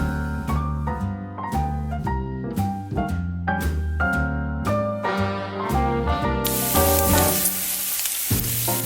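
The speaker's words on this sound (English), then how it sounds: "I'm gonna go ahead and fry up some bacon." Bite-sized bacon pieces frying in a pan make a crackling sizzle that swells into a loud, hissing spatter toward the end, partly under bright, note-by-note background music.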